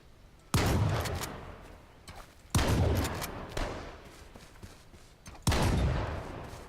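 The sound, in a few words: gunfire in the video game H1Z1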